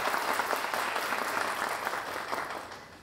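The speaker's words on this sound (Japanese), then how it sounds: "どうぞ皆さん大きな拍手をお送りください。" Applause from an audience at a Super Formula motorsport press event in a hall: dense, steady clapping that continues throughout, with no talking.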